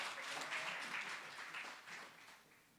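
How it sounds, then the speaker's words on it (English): A youth lab audience gives a short round of applause for a guest speaker: brief, fairly quiet clapping from a modest crowd that tapers off within a few seconds. "Can we give a round of applause for Mr. or rather Comrade Thabo Shingange?"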